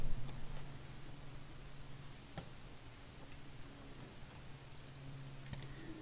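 Quiet keyboard and mouse clicks at a computer during a CorelDraw session, a few sparse, sharp taps spaced apart over a low steady hum, with no talking.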